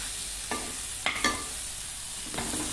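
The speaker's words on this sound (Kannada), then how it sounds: "ನೋಡಿ ಫ್ರೆಂಡ್ಸ್, ಈ ರೀತಿ ಬಾಡಿಸ್ಕೊಳ್ಳಿ ಚೆನ್ನಾಗಿ ಎಣ್ಣೆಗೆ" Mushrooms sautéing in oil for a mushroom curry, a low steady sizzle broken by a few soft stirring scrapes of a spoon against the pan, close and without talk.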